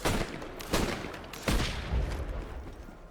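Pistol shots in the Assassin's Creed Black Flag video game: four loud, booming shots in quick succession with heavy reverberant tails, dense combat sound filling the gaps.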